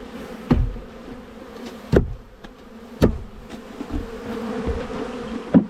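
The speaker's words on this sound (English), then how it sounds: "Yep, whole bunch of bees." A dense, steady buzzing of a close swarm of honey bees, with a few sharp knocks and thumps breaking through at intervals as a hive with a solid bottom board is handled.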